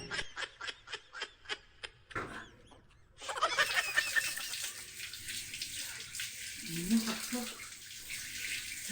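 Water gushes from a tap for several seconds after some rhythmic tapping and a brief voice, then continues steadily with faint sounds beneath.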